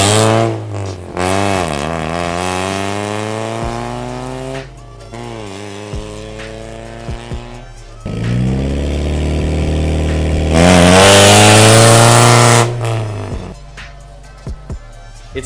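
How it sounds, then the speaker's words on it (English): A straight-piped four-cylinder Mazda Miata revs hard in repeated loud bursts, each climbing then falling back to a rough idle between blips, close and raw, with a final long high rev. "if you've never heard what a straight piped four cylinder sounds like"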